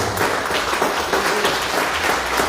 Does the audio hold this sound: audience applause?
yes